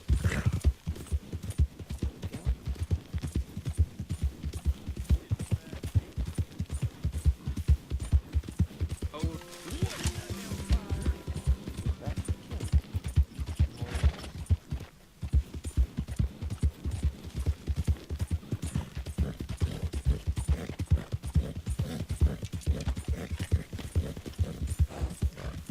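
Horse hooves clip-clop steadily in the video game Red Dead Redemption 2, a fast, even stream of close hoofbeats over a low rumble, with a brief break midway and voices speaking over parts of it.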